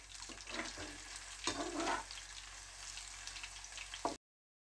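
Marinated chicken pieces deep frying in hot oil over a low flame, a steady broadband sizzle and bubbling with brief louder crackling bursts, close and continuous with no talking.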